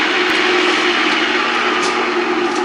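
A Pratt and Whitney lathe spindle running during a restoration run-in, a loud steady mechanical whine and hum with a constant tone, continuous and close with no talk.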